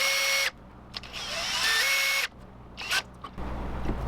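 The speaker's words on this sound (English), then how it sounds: "I used a little hand manual drill right there for the screws" Short bursts of a small hand drill whirring at high pitch while drilling screw holes in a fishing lure, stopping and starting a few times, with quiet gaps between, close by.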